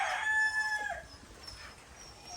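A rooster crows once, loud and close, its call trailing off after about a second, followed by quieter farmyard background.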